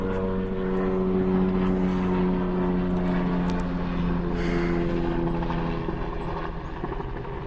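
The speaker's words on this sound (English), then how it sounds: "Helicopter." Helicopter passing overhead outdoors, a steady, loud droning rotor and engine sound that holds throughout and eases slightly toward the end, with no talking.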